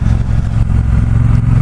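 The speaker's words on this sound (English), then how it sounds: "I do love the sound of this engine though" A 2018 Triumph Bobber Black motorcycle engine running steadily with a loud, deep, throbbing low rumble, close by and alone.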